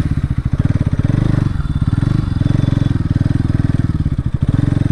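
A motorcycle engine idles and chugs in a fast, steady pulsing beat, very close and loud, with no other sound over it.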